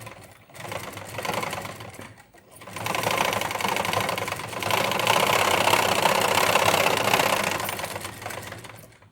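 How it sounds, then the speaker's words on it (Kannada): A sewing machine stitches a blouse, running in a steady mechanical whir with a brief pause near the start, then a longer continuous run that stays close and fairly loud. "ಈಗ ಹೊಲಿಗೆ ಹಾಕಿ ತೋರಿಸ್ತೀನಿ ನೋಡಿ."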